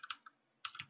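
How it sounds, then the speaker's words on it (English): Quick bursts of keystrokes on a computer keyboard, a short flurry, a pause, then another denser flurry, close and fairly quiet with no talking. "I'm just going to type it out so I can practice actually typing these things out now"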